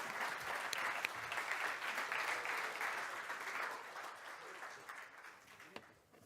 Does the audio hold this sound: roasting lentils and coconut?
no